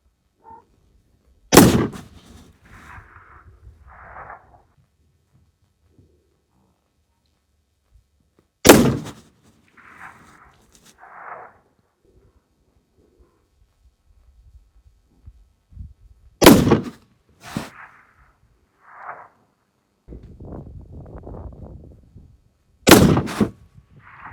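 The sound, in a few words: Seekins PH3 rifle shots in competition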